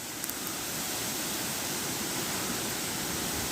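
Wind gusts through the tops of the trees around a campsite, a steady, soft broadband rush that stays even throughout with no voices.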